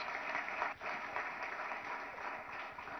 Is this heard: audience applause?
yes